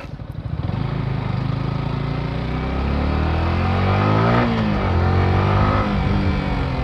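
Yamaha R15 V4 motorcycle engine held at top speed in fourth gear, a loud, steady high-revving drone with wind rush that rises slightly in pitch and intensity partway through.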